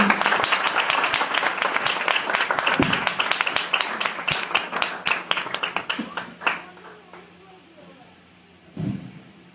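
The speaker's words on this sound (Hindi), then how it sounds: "इनका स्वागत हम लोग जोरदार ताली बजाकर करेंगे" A church congregation bursts into loud applause to welcome their pastor at a conference, dense clapping that gradually thins into scattered claps and fades, with voices mixed in.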